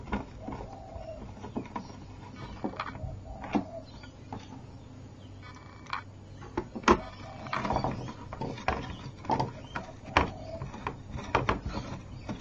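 Small screws being fastened into the cover of a Brauduino brewing controller kit during assembly, heard as close, intermittent clicks, scrapes and light taps over a steady low background hum.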